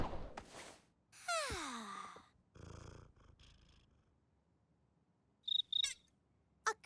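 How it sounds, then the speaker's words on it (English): A cricket chirps in short, sharp bursts near the end of a cartoon scene, following a few soft breathy and gliding vocal sounds; the chirps are brief, fairly loud and close. "Is that a cricket?"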